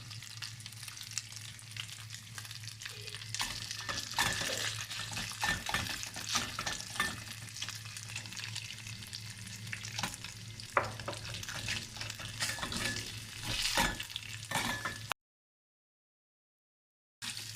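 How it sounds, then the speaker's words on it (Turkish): Tomato paste fries in a pot for a creamy sausage soup while a spoon stirs it constantly. Soft sizzling runs under repeated scraping strokes, close by, before a brief silence near the end. "Şimdi sürekli çevire çevire pişir."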